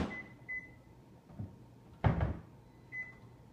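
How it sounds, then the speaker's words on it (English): A kitchen microwave oven: short electronic keypad beeps at the start and end, and a solid thud from its door closing in between, fairly close in a quiet room. "stick that in the microwave for about 45 seconds"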